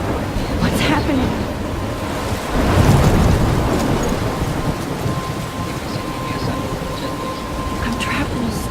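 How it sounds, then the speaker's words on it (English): A storm scene in the video game Life is Strange: heavy wind and rain with crashing waves and a rumbling surge in the middle, loud and continuous throughout. "I'm trapped in a storm?"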